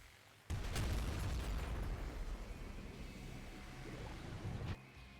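Explosions in the retro game Nuclear Throne erupt together in a loud, crackling blast that holds steady for several seconds before cutting off sharply.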